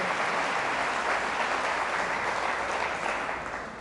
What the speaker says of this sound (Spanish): Fuertes aplausos al Rey de Reyes y Señor de señores, Cristo Jesús de Nazaret.